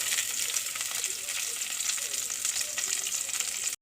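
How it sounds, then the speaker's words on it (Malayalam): Green chillies, ginger and shallots sizzle in hot oil in a cooking pot, a steady close crackling hiss that continues throughout. "ചട്ടി വെച്ച് എണ്ണ ഒഴിച്ചു പച്ചമുളക് ഇഞ്ചി ചെറിയ ഉള്ളി"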